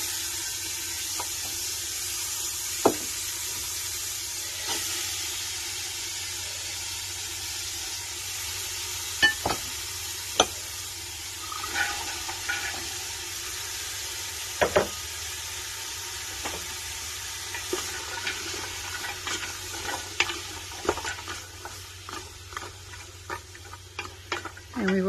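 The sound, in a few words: carrots, celery and onions sautéing in oil in a pan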